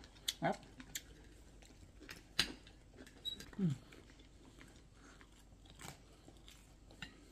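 Crisp crunching bites of a beef steak and broccoli meal, a few sharp crackles spread over several seconds, close to the microphone with quiet gaps between.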